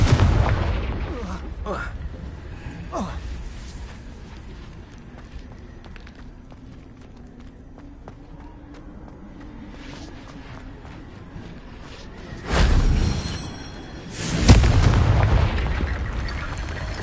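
Confringo blasting spells go off in Hogwarts Legacy on PS5, giving loud booming explosions, a cluster early on and two heavy blasts near the end, with quieter game ambience and footsteps in between.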